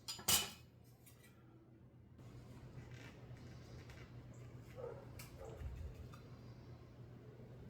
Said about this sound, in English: I'm just going to cut it in squares like it was cornbread.